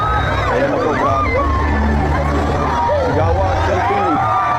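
A dense crowd in Sarangani mobs Vice President Sara, with loud, continuous babble and overlapping shouts and cheers, under a low steady rumble of vehicles nearby.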